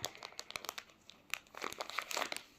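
Crinkly plastic packaging of a children's wet wipes pack being torn open and handled, giving a close run of sharp crackles and rustles with a busier burst toward the end.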